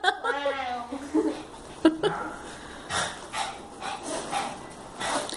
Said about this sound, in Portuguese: Esse barulho que vocês estão escutando é a cachorrinha querendo latir.